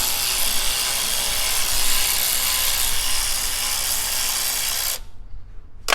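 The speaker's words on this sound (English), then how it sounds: "I'm going to get this on the battery ratchet" A battery-powered ratchet loosens brake bolts on a Volvo S60 Turbo during a front brake pad and rotor job, giving a loud, steady motor whir that cuts off near the end, followed by a few faint clicks.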